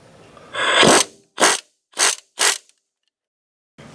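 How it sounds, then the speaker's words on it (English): A ratchet on a 15 mm deep socket and long extension works loose a front shock bolt on a 2000 Ford Ranger, giving four close, sharp bursts of clicking separated by short pauses, with no talk. "I put a deep socket, a 15 millimeter, and a super long extension, and I'm going to try to take it out from here"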